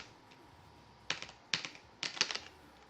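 Computer keyboard keys clatter in three quick clusters of presses for Street Fighter III: 3rd Strike special-move inputs, close and crisp against a faint hum, with no voices.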